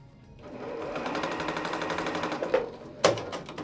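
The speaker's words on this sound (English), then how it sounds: "I'm gonna sew these two together" A sewing machine stitches two scrap fabric strips together, a steady rapid mechanical chatter running for a few seconds, ending with a couple of sharp clunks.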